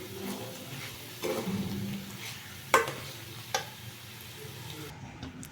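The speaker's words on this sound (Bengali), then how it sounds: "কিছুটা এলাচ গুঁড়ো করে রেখেছিলাম এটাকে ভালোভাবে মিশিয়ে নেব" Cardamom powder being stirred into a watermelon peel dish in a pan, a gentle sizzle with a few spoon scrapes and taps, one sharp clink midway.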